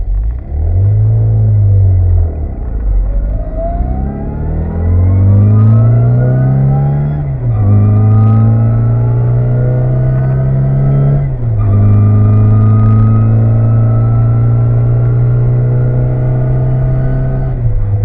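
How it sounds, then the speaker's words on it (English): A Mini rally car on an Alpine road near Seefeld in Tyrol, Austria, climbs through several gear changes, each with a rising engine note and a shift dip. It is loud and close as it passes, with no talk. "we're expecting the Mini to be the first rally car up"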